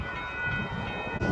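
A hi-rail vehicle rolls across a railroad crossing with a low rumbling drone and a faint ringing tone, brief and continuous.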